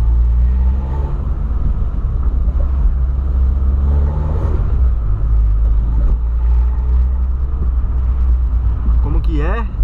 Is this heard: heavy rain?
no